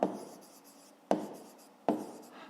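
A pen writes on paper in three quick separate bursts, each a sharp scratchy onset fading into a soft stroke, close and quiet with no talking.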